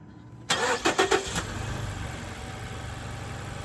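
A Mazda 3 engine cranks with a few quick rhythmic pulses, catches, and settles into a steady low idle, recorded close by after a headlight replacement.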